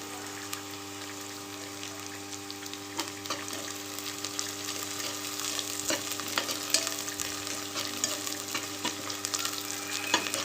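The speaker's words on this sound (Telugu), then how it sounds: "సాయి జీరా వేస్తున్నానండి." Shahi jeera sizzling as it fries in hot oil in a pan for meal maker rice, with a loud continuous crackle and scattered pops and occasional utensil taps throughout.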